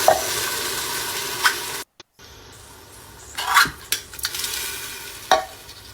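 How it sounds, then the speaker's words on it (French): Tomato coulis is poured into a pan of caramelized shallots, followed by close sizzling and stirring scrapes, with a short silent gap partway through. "On vient rajouter notre coulis de tomate."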